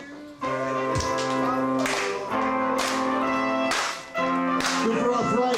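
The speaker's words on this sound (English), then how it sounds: "Everybody clap your hands like this." An audience claps in rhythm along to a sung love song, with the beats landing under a loud sustained singing voice and accompaniment.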